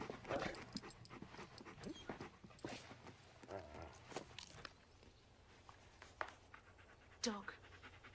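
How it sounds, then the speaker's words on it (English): A dog pants and whimpers close by in an old drama film, breathy and uneven, with footsteps and scuffling around it while people speak. "Dog."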